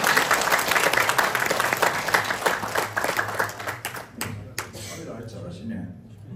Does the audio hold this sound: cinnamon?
no